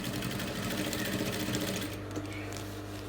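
A sewing machine stitching across a fabric placket runs as a steady, close, continuous whir. Its tone shifts a little near the end as the stitching slows.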